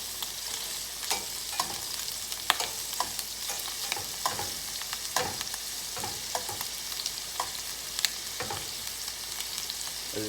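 Seafood fries in a pan for a Portuguese cataplana stew, giving a steady close sizzle with scattered sharp crackles and pops and no voices.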